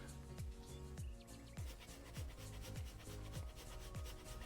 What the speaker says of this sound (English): for the Parmesan, I think I wanna grate this in with a microplane